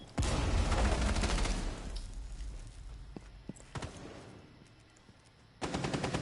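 Apex Legends gunfight in an esports match, bursts of rapid automatic gunfire loud at the start and again at the end, with scattered single shots and quieter game sounds in between.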